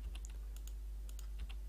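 Light, irregular computer keyboard typing as code is entered, a few quick clicks and taps heard close up against a quiet background.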